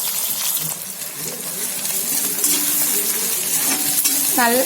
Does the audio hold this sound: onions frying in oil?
yes